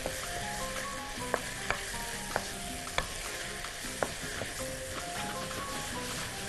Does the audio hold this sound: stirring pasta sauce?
yes